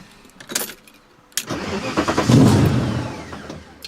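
A V8-swapped BMW E30 engine cranks briefly, stops, then cranks again and catches, rising into a loud, rough rumble that settles toward a low idle, heard up close with no talking.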